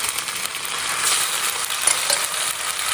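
Ginger garlic paste sautéing with onions in a pan gives a steady close sizzle and crackle of frying, with faint stirring and no voices.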